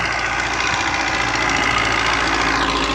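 A tractor engine labours under heavy load, a dense, steady mechanical roar with knocking vibration that continues loud and close throughout without a break.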